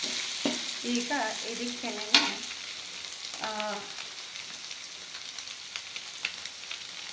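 Egg fried rice sizzles steadily in a pan while a utensil stirs it with a few distinct scrapes and clacks, close up, with a couple of brief spoken words over the frying.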